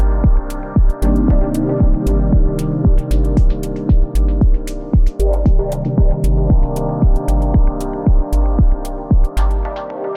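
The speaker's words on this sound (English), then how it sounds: "typical like endless overdrive tape echo cascades that we all like" Dub techno chords from the Luftrum Dub Chords vol.2 sample pack pulse on a steady beat, each stab trailing into overdriven tape echo cascades and reverb, with a deep thumping kick underneath, loud and continuous with no voices.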